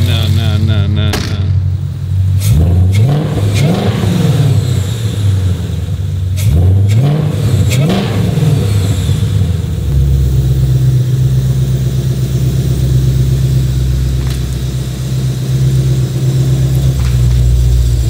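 A Ford Shelby GT500 engine revs loudly nearby in repeated rising and falling bursts, then settles into a steady heavy rumble, with a brief voice in the background.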